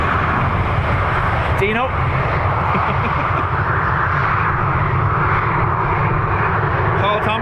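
An airliner takes off from runway 10 right at Dublin Airport, a loud, sustained engine roar heard from nearby, with a person speaking briefly over it.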